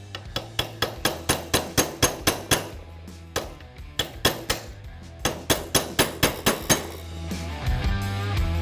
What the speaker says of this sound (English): Then I'm going to take my brass punch and drive it the rest of the way through.